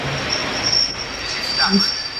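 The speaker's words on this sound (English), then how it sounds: "The train now approaching platform 1 is the 118 from Carlisle, calling at Rugby, Watford Junction and London Euston." Train wheels squealing as it pulls into Stafford station platform, a steady rail rumble with a high-pitched screech rising near the end, fairly close.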